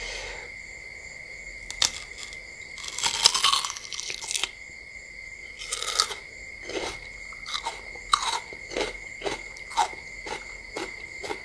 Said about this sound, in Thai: ทำเอสมาเสียงกินหัวหอมกันเลยครับ